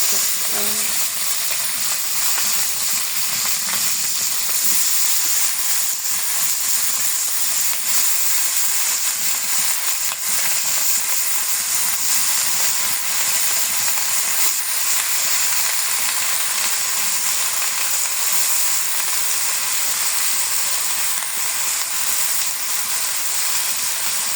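Onion and chili frying in very hot oil give a loud, continuous sizzling hiss that holds steady and close throughout.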